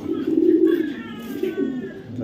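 A red checker racing pigeon, a hen, coos in low throaty bursts close by while someone talks over it.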